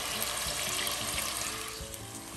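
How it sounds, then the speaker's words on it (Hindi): Mutton and onions frying in a pot for Kabli pulao, a dense, steady close sizzle with faint stirring scrapes, no talking. "हमने मटन को इतनी अच्छी तरह फ्राई करना है और जो साथ ये हमने प्याज डाले थे इनको भी ऐसे ही फ्राई करना है"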